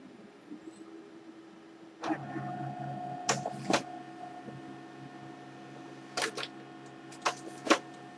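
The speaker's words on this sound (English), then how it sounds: "That's my printer. It's making printing noises." A machine runs with a steady low hum, broken by several sharp mechanical clacks and whirring bursts as a page feeds through, fairly close.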